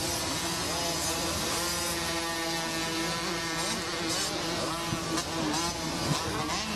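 Micro 2 motocross dirt bikes racing a Limited moto at Loretta Lynn's, a steady dense engine drone with buzzing, revving tones from several bikes at a distance, running throughout with no speech.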